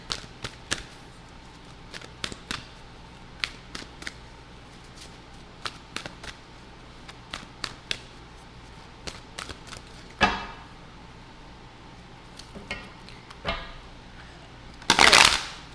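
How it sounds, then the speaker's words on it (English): Large Ghetto Tarot cards are shuffled in three quick rounds, producing scattered soft slaps and riffles, a couple of longer rustling bursts, and a final loud fluttering riffle, all close and with no talk. "we're going to give them 3 quick shuffles"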